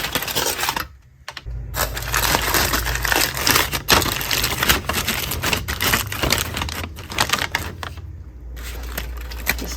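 Crinkling and crumpling of wrap around a raw salmon fillet as it is prepared for baking, close and fairly loud, with sharp rustles and taps in bursts broken by brief pauses.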